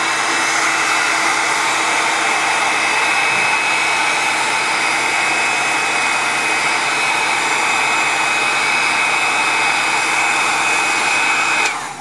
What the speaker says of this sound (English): another application of the heat gun